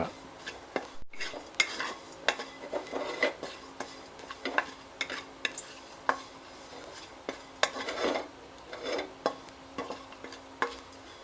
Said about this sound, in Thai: แล้วเราก็เอา ตะไคร้ ลงไปคั่ว